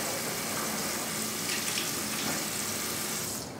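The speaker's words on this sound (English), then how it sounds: "It's a quick little mouth rinse." Running water at a bathroom sink during a quick mouth rinse: a steady, close splashing flow fills the whole stretch and drops off at the very end, with no talking.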